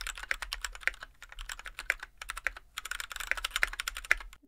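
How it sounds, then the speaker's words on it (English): Typing on a Royal Kludge RK100 keyboard fitted with Cherry MX Brown switches, a close run of sharp clacky keystrokes in an uneven, steady rhythm with brief pauses and no talk. "This came with cherry MX brown switches, and man, this board sounded horrible."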